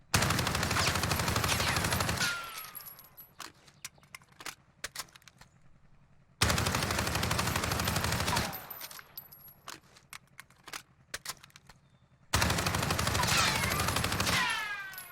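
Three long bursts of full-auto hipfire from an AUG rifle in Warzone, each lasting about two seconds, followed by scattered clinks and shell-casing rattles in the quiet gaps.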